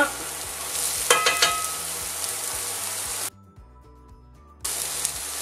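Shallots sizzle and crackle as they fry in a pan, a steady bright hiss with a few sharp pops early on. It briefly drops to near-silence, then the sizzling returns.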